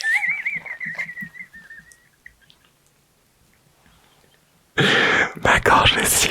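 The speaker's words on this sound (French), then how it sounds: "Ma gorge elle siffle" A thin, wavering whistle rises from a throat over breathy sounds in an ASMR recording, then quiet, followed by a loud burst of noisy talk or laughter.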